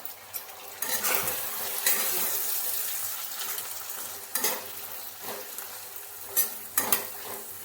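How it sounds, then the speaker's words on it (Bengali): Potato pieces frying in fish oil in a pan for a spinach dish, a steady close sizzle broken by intermittent stirring scrapes and clatters. "মাছের তেলটা ভাজা হয়েই এসেছে, এবার একে একে এতে আলু, বেগুন, শাক সব দিয়ে দেব। প্রথমেই আলুটা দিলাম।"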